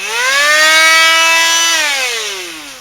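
A GMC oscillating multi-tool spins up gradually into soft wood, producing a loud, steady high-pitched whine that holds, then slowly drops in pitch and fades as it winds down.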